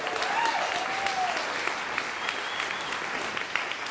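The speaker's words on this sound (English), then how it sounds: "how about a big round of applause for all the singers," Sustained applause from an audience for singers and a choir, a dense continuous wash of clapping that holds steady from start to finish.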